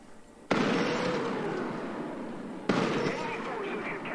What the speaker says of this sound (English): I gotta shoot at this guy, hold on.